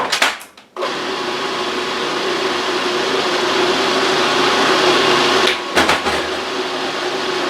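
Food processor whirring as it chops meatloaf ingredients: a loud, steady motor drone runs for about five seconds after a short start, cuts out briefly, then pulses back on.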